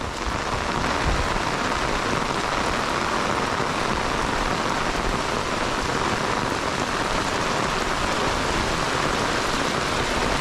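Steady rain falls on a homestead in a dense, unbroken patter of drops on surfaces, loud and close throughout with no voices.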